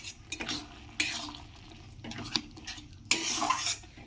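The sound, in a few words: stirring chal kumro ghonto in a pot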